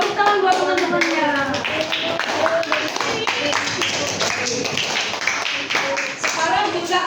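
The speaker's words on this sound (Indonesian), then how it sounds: "Tepuk tangan buat teman-temannya" Schoolchildren in a classroom clap for their classmates in a steady stream of quick, close hand claps, while voices and chatter carry on over the clapping throughout.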